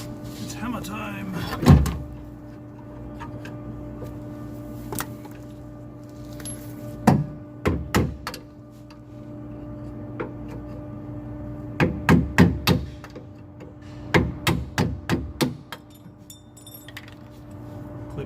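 Sharp metallic hammer blows ring out while a strut is knocked off the steering knuckle of a GC Subaru Impreza, arriving as single strikes and then quick bursts of three to five hits, with someone talking between them.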